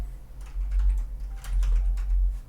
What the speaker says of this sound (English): You can just find it by typing in here.